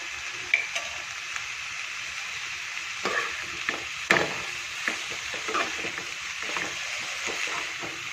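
Cabbage thoran frying in a pan, seasoned with pepper powder and turmeric, is stirred with a steady sizzle and a few sharp scraping clicks of the spoon against the pan, close up and with no voices.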